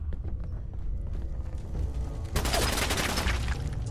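Gunfire in the video game Fallout 4, played with the Sim Settlements 2 mod, erupts as a dense, rapid burst midway through and continues over a busy, rumbling game background.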